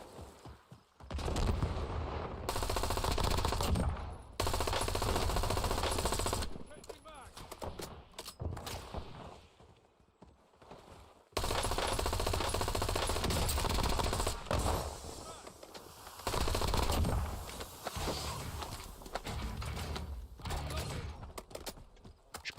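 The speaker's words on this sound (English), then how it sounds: "See who's he shooting at." Gunfire in the video game Warzone: rapid bursts of shots and mechanical clatter come and go between sudden silences, with someone talking over some of it.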